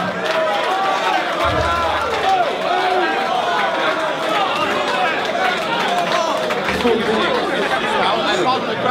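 A dense crowd at a live rap battle event roars and chatters continuously, a loud, unbroken wash of overlapping voices and shouts reacting close by.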